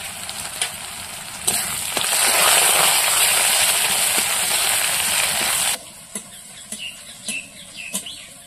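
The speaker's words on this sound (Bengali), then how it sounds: "পেঁয়াজ রসুন ভাজা হয়ে গেছে।" Chopped onion and crushed garlic fry in oil with five-spice and bay leaf, a loud close sizzle that cuts off sharply after several seconds, leaving faint clinks and distant bird calls.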